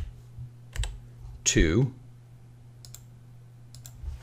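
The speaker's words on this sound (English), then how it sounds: "So I'll start typing in plant" Computer keys click in a few brief, sparse taps on a keyboard, close and fairly quiet, interrupted by a short spoken word in the middle.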